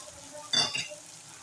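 Green chilies hitting hot oil for Gujarati batata poha, a brief sharp sizzle burst that quickly fades back to a faint background hiss.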